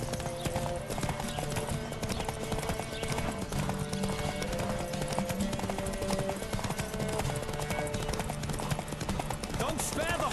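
A horse gallops in a race in the video game The Witcher 3: Wild Hunt, with steady rapid hoofbeats running through a dense mix of game music and ambience, and speech heard over it.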